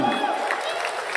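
Audience applause and cheering for ten contestants at a ladyboy beauty pageant, Miss Andaman Pride 2023, a brief steady wash of clapping from a crowd.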